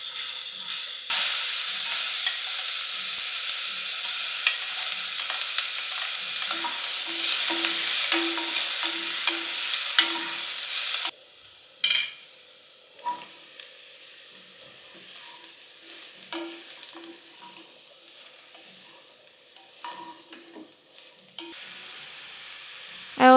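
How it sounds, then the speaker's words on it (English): Mushrooms, onion and garlic sauteing in hot oil and butter, a loud steady sizzle for about ten seconds that then drops to a quieter crackle with occasional stirring clinks. "sauteing the mushrooms, onion and garlic to build the flavor"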